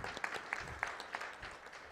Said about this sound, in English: A little bit of applause for Susan.